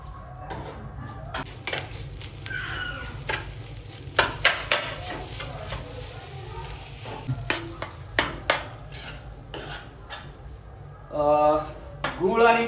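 Jaggery being stirred into a pan of sautéed grated coconut and dry fruits for ukadiche modak: repeated sharp spoon scrapes and clinks against the pan over a soft sizzle, with someone speaking at times.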